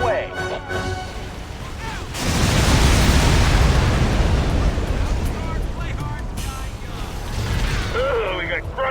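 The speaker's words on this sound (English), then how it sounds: "Bombs away." A long, roaring rumble from an air-support bombing strike in Halo Wars swells loudly and stays dense for several seconds, with voices heard briefly before and after it.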